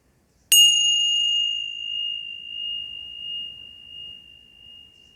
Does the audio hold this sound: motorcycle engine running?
no